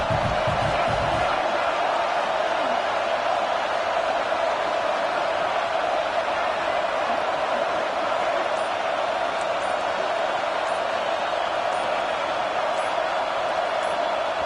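Steady roar of a stadium crowd at a Gators vs SMU college football season opener, loud and continuous throughout, without letting up, under a low commentator-style voice.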